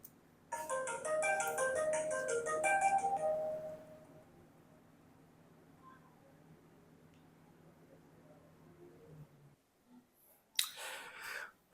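A phone ringtone plays a bright melodic electronic tune for about three seconds, then cuts off. Quiet room noise follows, and a brief voice comes in near the end.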